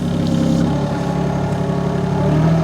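A mini excavator's engine runs steady and close with a low, continuous rumble while pulling up a fruit tree, rising slightly in intensity toward the end.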